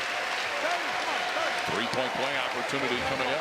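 A basketball arena crowd at a TBT 2018 game between Texas Tech and Scarlet & Gray keeps up steady applause and cheering, a broad wash of noise under a commentator talking.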